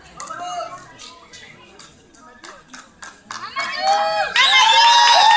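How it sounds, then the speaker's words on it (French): An audience at a hotel entertainment show in Djerba claps and cheers, starting with scattered claps and excited children's voices and building into loud, dense applause with shouting toward the end. "on applaudit très fort"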